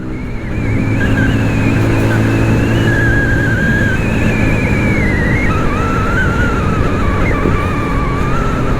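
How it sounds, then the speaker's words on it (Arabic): A motorcycle engine runs loud and close without a break, its hum holding steady while the pitch rises and dips in a few light revs throughout. "شي حاجه مبرسطاني في هذا الموتور اليوم"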